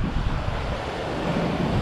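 Sea waves break and wash on Nagoa beach in Diu, a broad steady roar of surf mixed with wind buffeting the microphone, continuous and fairly loud with no talking.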